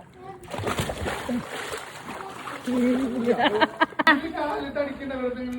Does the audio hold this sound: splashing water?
yes